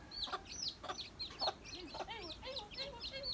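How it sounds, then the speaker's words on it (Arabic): Chicks and chickens clucking and cheeping close by, a quick run of bright repeated peeps and short clucks with no talking. "شوفوا الكتاكيت ديالي"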